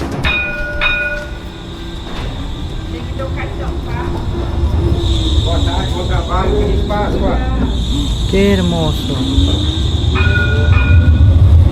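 A Santos tram rolls past up close in the Brazilian coastal city, its loud rumble and screeching wheels carrying on steadily, with tonal whines and a bell-like ring, while a person speaks briefly over it.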